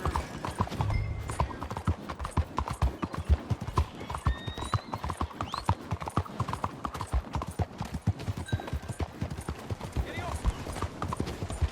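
Horse hooves clip-clop in a quick, steady rhythm as a rider moves through a town in Red Dead Redemption 2, and a voice talks over the hoofbeats now and then.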